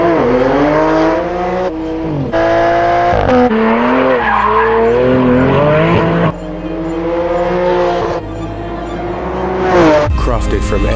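A loud Porsche 992 Turbo with a Kline Innovation Inconel exhaust roars and revs hard, its exhaust note climbing and falling through gear changes, with crackling pops between shifts.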